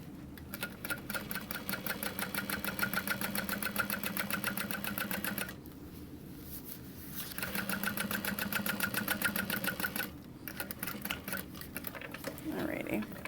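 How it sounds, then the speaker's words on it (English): A sewing machine topstitches through all layers of a leather bag, its needle hammering in a fast, even rhythm in two long runs split by a short pause, then a brief final burst. "I am going to top stitch through all layers"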